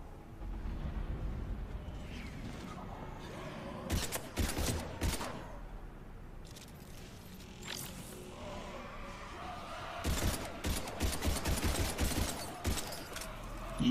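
Gunfire while fighting Husks in the video game Mass Effect 3, with bursts of rapid shots in clusters against a low murmur of game ambience, separated by quieter gaps.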